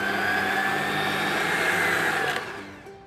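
Electric hand mixer beating buttercream with lemon rind, lemon juice and orange juice for melting moments filling, a loud steady whir that winds down near the end.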